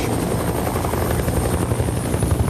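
Helicopter rotor chopping and engine roar from an audiobook sound effect, steady, loud and dense throughout, heard alone with no talking.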